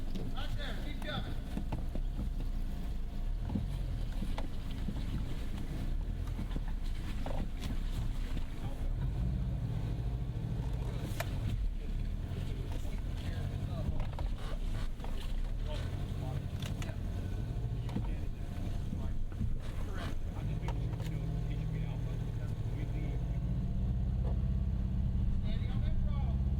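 A 2024 Ford Bronco Sport Badlands engine works under heavy throttle on an off-road course in the Smoky Mountains, a steady low rumble with rising surges that sits loud and close throughout, mixed with rustling, bumps and some outdoor noise.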